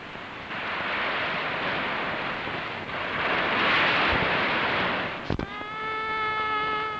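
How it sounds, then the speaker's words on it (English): Broad, roaring surf rolls in continuously on the coast of Goa, India, swelling and easing, with a faint tonal hum emerging near the end. "Now, only the sound of breaking waves is heard"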